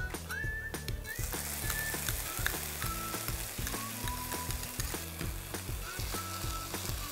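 Tomato puree goes into half-fried onions for a spicy red bean and soya stew, raising a steady, close sizzle with faint whistling tones and a rhythmic low pattern underneath.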